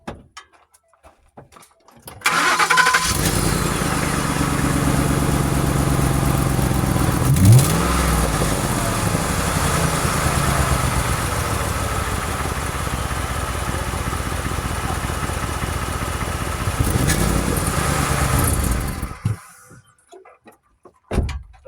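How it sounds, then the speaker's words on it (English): A car engine with a freshly repaired exhaust leak, damaged after driving over a stump, cranks and catches, then runs loudly and steadily with a brief rev partway through before shutting off, leaving quiet. "Time to start it up"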